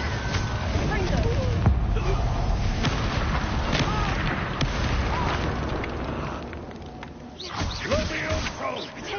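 Explosive spell blasts in Hogwarts Legacy, a Confringo fire burst mixed with other spell effects, booming and crackling through dense game combat audio while someone shouts spell names over it.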